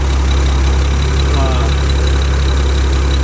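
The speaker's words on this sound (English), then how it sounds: "we're gonna shut the engine down now." An engine idles with a steady, even low drone that holds at the same level throughout, with no change in pace and no other sounds standing out.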